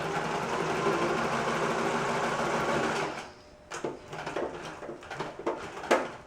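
A sewing machine stitches a chain of fabric hearts in a loud, fast whirr for about three seconds, then stops, leaving a few scattered clicks and knocks.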